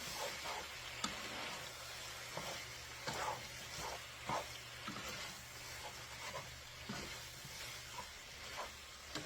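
Drunken noodles being stir-fried in a pan, a steady sizzle with scraping stir strokes at an irregular rhythm, close and moderately loud, with no talking.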